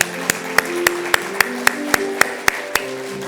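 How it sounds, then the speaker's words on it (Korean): A Korean church congregation in Glendale claps during an elder installation service, a crisp, steady unison beat of about a dozen claps over sustained organ-like tones. "큰 박수로 우리 장로님 축하와 격려해 주시면 감사하겠습니다"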